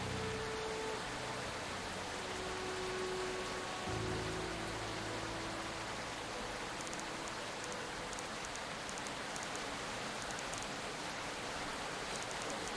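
Steady rainfall in the Gestalt: Steam and Cinder video game, a continuous dense hiss of falling rain with no breaks and no voices over it.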